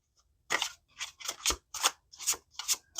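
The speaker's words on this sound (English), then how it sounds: "just a few shuffles here" A deck of tarot cards is shuffled in short, crisp riffling bursts, about six strokes in a regular rhythm separated by brief pauses, close and clear with no talk.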